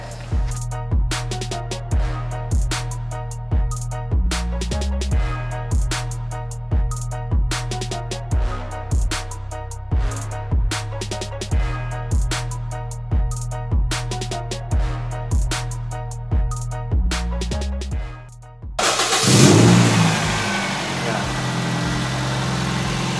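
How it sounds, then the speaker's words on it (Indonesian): The engine of a second-hand Toyota Vios Limo, a modified former taxi, is revved repeatedly in short regular bursts over a steady idle, close and loud, before a louder rushing noise at the end. "sekarang kita tes kondisi mesinnya"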